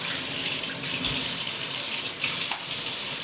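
Steady, loud rush of water pouring from a tap into a kitchen sink, continuous and close with only slight changes in flow.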